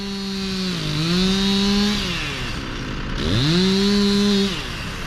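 Chainsaw cutting oak logs into nine-foot sections, the engine loud and close, revving up into two long sustained cuts with a brief dip between them, no talking.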